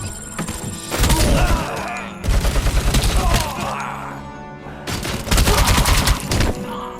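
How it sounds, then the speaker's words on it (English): Loud, close bursts of heavy machine-gun fire from RoboCop: Rogue City come in three rapid rattling volleys separated by brief pauses, with booming impacts and clattering debris. "Yeah, heavy machine guns"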